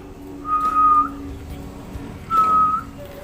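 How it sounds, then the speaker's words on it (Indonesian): Two clear whistled tones, each held for about half a second, separated by a short pause, close and fairly loud. "Pertama-tama kita harus bisa meniup seperti bersiul."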